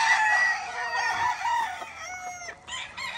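Roosters on a gamecock farm in the hills of Puerto Rico crow loudly in long, drawn-out calls that overlap one another and run steadily without pause.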